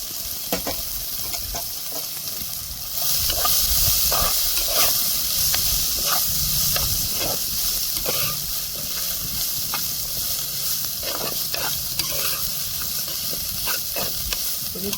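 Green onion and green garlic fry in a hot pan with a steady sizzle and hiss, while a spoon scrapes and stirs through them in repeated strokes, loud and close, with no talking.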